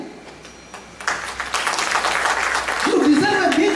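A crowd at a speaking event breaks into clapping about a second in, a dense, steady applause that continues to the end while a voice speaks underneath.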